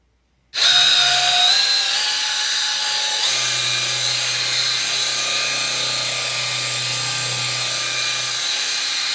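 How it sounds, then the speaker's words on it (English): A power tool starts abruptly after a moment of silence and runs as a loud, steady whine while polishing the bottom of a piece, shifting slightly in pitch partway through, with no voices. "This is the second polishing on the bottom."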